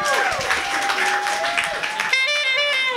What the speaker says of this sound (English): Another round of applause for our readers.